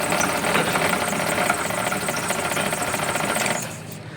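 Suzuki F6A mini van engine running rough with a misfire from a faulty spark plug, a steady close mechanical chatter that holds for over three seconds before dropping away near the end.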